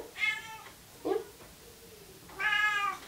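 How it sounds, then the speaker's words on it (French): A cat meows three times nearby, two drawn-out harmonic cries with a short chirp between them, heard alone against a quiet room. "Il y a un petit chat qui veut un câlin."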